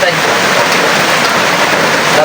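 Heavy rain pours in a dense, steady hiss, loud and close, with no pauses across the short stretch.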